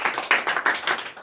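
A church congregation claps in acclamation to the Lord during a French sermon, a quick run of loud, rhythmic claps from many hands.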